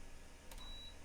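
A computer setup running LabView on Windows 98 gives a single short, faint electronic beep over quiet room hum, with no talking.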